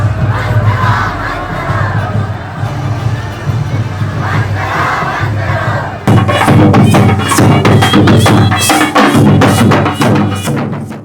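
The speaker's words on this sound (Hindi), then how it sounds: "आप देख सकते हैं एक भीड़ लगी हुई है झारखंड के आदिवासी समाज की" A large crowd of Adivasi protesters at Morabadi ground in Ranchi, Jharkhand, roars and chants loudly and continuously, with massed shouting swelling stronger partway through.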